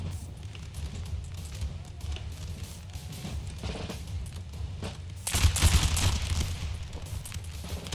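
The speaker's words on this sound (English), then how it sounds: "Moving forward, my infantry to fire." Infantry musket volley fire in the video game Empire: Total War, a rolling crackle of many shots that swells sharply near the end over a dull battle rumble.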